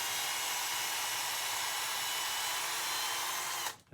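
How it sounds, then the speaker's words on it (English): A power drill bores epoxy out of a graphite golf shaft, a steady high whirring grind held at one level for several seconds, then it cuts off abruptly. "you're going to use the drill"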